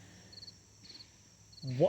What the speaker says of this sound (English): Sorry about the crickets cricketing outside.